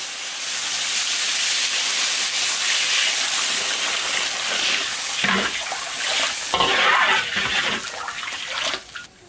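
Water poured into a hot iron wok of fried ginger and chopped chili bursts into a loud steamy hiss and bubbling, rising again in surges before fading at the end.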